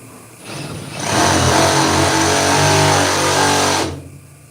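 Handheld power drill with a drill bit trying to bore into a bowling ball, a loud sustained whining motor hum that starts, holds steady for about three seconds, then stops.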